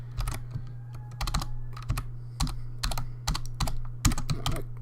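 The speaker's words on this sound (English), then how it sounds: "I don't know what's wrong with my typing right now." Computer keyboard typing during coding of a custom WordPress website, quick irregular bursts of keystrokes clattering close by over a steady low electrical hum, with no talking.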